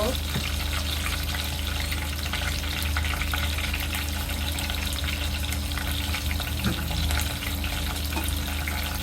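Whole spices—peppercorns, cloves, seven or eight cardamom pods and two bay leaves—sizzle steadily in hot oil while being stirred for a few seconds, a continuous close frying hiss over a low hum.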